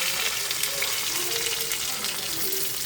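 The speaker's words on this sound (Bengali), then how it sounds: "তেলের মধ্যে একটু লঙ্কা গুঁড়ো দিয়ে দিয়েছি, তো আলুটা ভালো করে ভেজে নেবো" Boiled potatoes frying in oil with chili powder, a continuous hissing sizzle close by with faint clinks, no talk.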